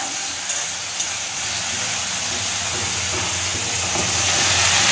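Prawns and chopped onion greens frying together in a pan, giving a steady, loud broadband sizzle and hiss that swells slightly toward the end, with no talking.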